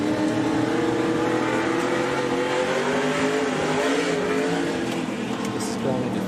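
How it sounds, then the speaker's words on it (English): A race car runs on the Eldora dirt oval during an SRX event. The engine roars loudly and continuously with shifting pitch, heard alongside a broadcast commentator's voice. "This is the view from the Michael Waltrip machine"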